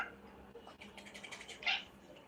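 A house cat gives a faint, short meow near the end, with a few softer mewing sounds before it, all quiet against low room noise.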